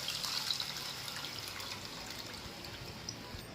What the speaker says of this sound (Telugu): దానికి తోడు కొద్దిగా వాటర్ వేసి మళ్ళీ కొద్దిగా రసం అనేది ఇందులో వేసుకుని